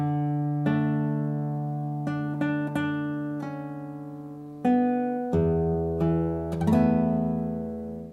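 Fingerstyle acoustic guitar plays a strummed phrase from an arrangement, several ringing chords struck in a slow sequence, each left to sustain and decay, played alone at moderate volume.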